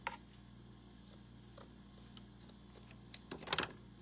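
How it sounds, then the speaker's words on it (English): Small scissors make a few faint snips through a tiny piece of craft material for a miniature spring forest shadow box, ending in a brief cluster of close crisp cuts. "so I think I'm just gonna cut it right here."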